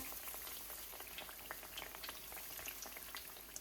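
Chicken kababs coated in egg fry in oil in a pan, giving a soft, constant sizzle and crackle with scattered pops, quiet and steady, with no voices.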